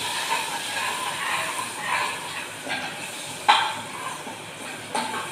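Garlic cloves hiss and sizzle in a hot pan with curry leaves while cooking vegetable khichdi, a steady frying hiss broken by a few sharp scrapes and taps of stirring, close and without speech.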